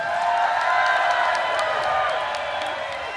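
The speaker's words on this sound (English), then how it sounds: "Fantastic audience, give yourself a round of applause." Concert crowd at a show in a Miami Beach theater, a dense sustained wash of applause and cheering that fills the whole stretch, loud and continuous with scattered whoops.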